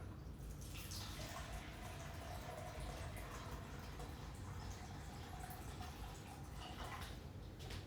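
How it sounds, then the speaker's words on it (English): Water runs into a sink while a potted Philodendron Pink Princess is watered, a faint, steady splashing trickle heard alone and close throughout. "I'm gonna give him a little water"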